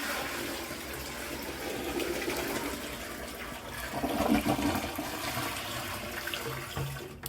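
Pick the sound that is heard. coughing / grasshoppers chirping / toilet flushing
toilet flushing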